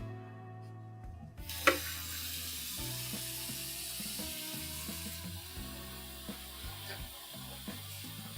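Kitchen tap water runs steadily to rinse cut potatoes, a continuous hissing splash under background music, with a brief clatter near the start.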